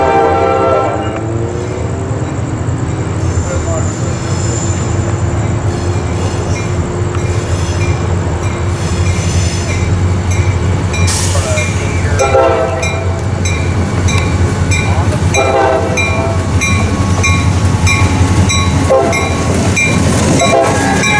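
CSX freight train passing close by, with a loud continuous rumble of rolling cars, rhythmic wheel clatter and several blasts of the horn.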